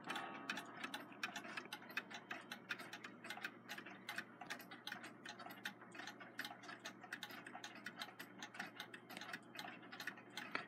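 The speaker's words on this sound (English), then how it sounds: "Seth Thomas, automatic 8-day long alarm." A Seth Thomas automatic 8-day long alarm clock ticking steadily, crisp even mechanical ticks in a brisk regular rhythm, close and quiet with nothing else heard.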